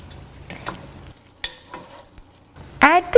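Chicken mapas simmering in a pot gets stirred, a few scraping, clinking strokes of a spoon breaking a near-silent pause, with a brief louder bubbling sizzle near the end.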